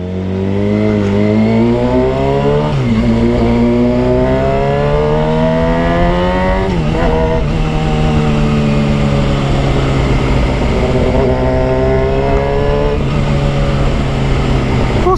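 A Suzuki GSX-1000 motorcycle is ridden, its engine loud and close, climbing through repeated rising revs between gear shifts with steady road and wind noise throughout.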